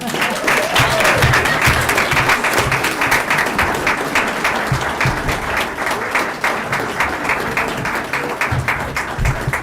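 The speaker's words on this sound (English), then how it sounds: "please join us in a round of applause for our Joliet Township High School Board of Education." A crowd at a high school board of education meeting gives loud, sustained applause, many hands clapping in a dense, rapid patter that stays strong for the whole stretch.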